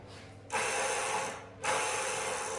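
Rapid, steady mechanical clicking from a freshly cleaned spinning bicycle cassette freewheel, loud and close, in two long bursts with a short quieter gap between them.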